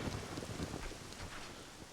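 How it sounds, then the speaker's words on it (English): Steady rain hissing down in The Legend of Zelda: Ocarina of Time near the royal tomb, a dense continuous wash with low rumbling texture like distant thunder, constant and fairly loud throughout. "It starts to rain."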